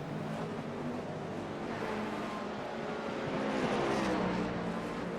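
LMP2 prototype race cars at Laguna Seca in a racing video game, a steady, dense engine drone with overlapping cars that swells slightly louder toward the end, no talk over it.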